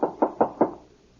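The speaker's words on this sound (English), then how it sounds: "Here's Miss Canyon's cabin. Oh, door's open. I'd better knock anyway." Four hollow knocks on a wooden cabin door, a radio drama sound effect, come in quick succession at close range and then fade into a quiet room.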